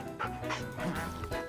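A cartoon dog in a children's animated show gives a few short, yappy barks and whimpers amid light background music, close and moderately loud.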